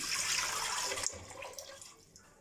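Water pours into a cooking pot for pulao rice, a steady rushing splash that thins and fades over a couple of seconds, close and alone.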